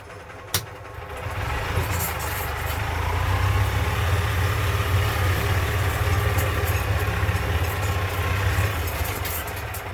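Golf cart gas engine running after a choke start, a close, steady low rumbling drone that swells slightly after a brief click near the start, with no talk.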